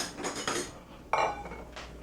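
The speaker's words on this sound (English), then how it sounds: "When you first put your pasta in, stir it." Metal spoon scraping and clinking inside a pot as pasta is stirred in, a couple of close rattling strokes with a sharper clank near the middle.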